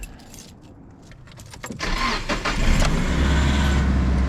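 A Nissan 240SX left sitting all winter, key jangling in the ignition, then its engine cranking and catching into a steady idle that swells loud and close over the last couple of seconds.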